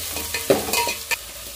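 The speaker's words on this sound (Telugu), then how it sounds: "అంతలోకి ఫ్రై అవుతూ ఉంటాయి కదా ఈ చేప ముక్కలకు అనేది" Fish pieces frying in a pan while being stirred, with soft scraping and stirring strokes over a low sizzle, close and fairly quiet, no voices.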